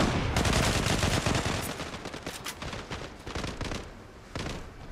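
Rapid bursts of AUG A3 rifle fire in the online shooter Zula, sharp loud shots in quick automatic strings that run almost continuously with brief gaps, with no talk over them.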